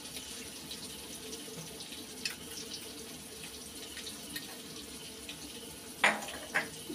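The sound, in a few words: pouring water into spices while cooking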